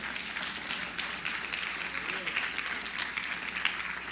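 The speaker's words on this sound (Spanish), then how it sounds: "Dele la gloria al Señor, dele el aplauso." A church congregation applauding during a Spanish-language sermon, dense sustained clapping that fills the whole stretch at moderate volume with a faint murmur of voices underneath.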